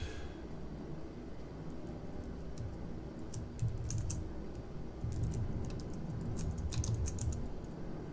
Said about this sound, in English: I just can't type on an Apple keyboard anymore